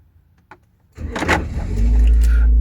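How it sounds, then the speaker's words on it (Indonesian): A 2017 Daihatsu Terios R Adventure with automatic transmission starts up after a soft click, the starter cranking briefly before the engine catches and settles into a loud, steady idle close by. "Yuk, kita langsung nyalain aja mobilnya."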